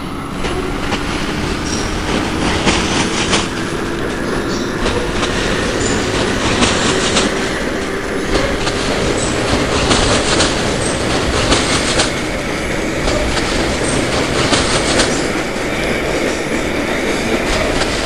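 Coney Island–bound D train, an R110B subway car in the BVE train simulator game, rolling steadily with loud continuous rumble, clickety-clack of wheels and a rising squealing tone, close and constant with no talking.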